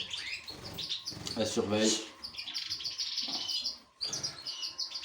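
Goldfinch chirps and tweets in a breeding aviary, bright and fairly close, repeating in quick bursts while a person speaks French over and between them.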